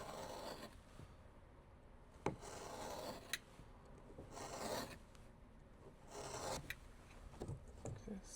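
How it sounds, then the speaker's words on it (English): A knife makes a small relief cut in a felt wall panel in a Ford Transit, giving quiet close-up rasping and scraping strokes with a couple of sharp ticks. "we're just going to make a little relief cut"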